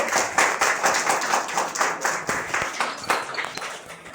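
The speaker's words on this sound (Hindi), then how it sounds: "जोरदार ताली होनी चाहिए।" An audience claps at a school award ceremony honouring a top intermediate student. The hand claps are steady and rhythmic, close and fairly loud, with no talking.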